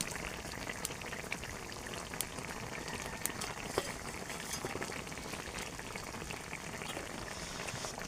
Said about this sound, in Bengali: আমার ঝোলটা ফুটে গেছে